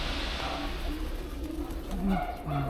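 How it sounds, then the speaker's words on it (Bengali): Pigeons coo softly at a Shiva temple in Darjeeling, low repeated calls rising over a steady outdoor background hum, with a few louder coos near the end. "ওনাদের এখানে কবুতর খুব ভালো লাগতেছে"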